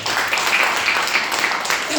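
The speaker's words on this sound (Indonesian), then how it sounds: "Tepuk tangan buat Prudential" A short stretch of steady crowd clapping at a motivational training event for Prudential agents, with voices mixed in.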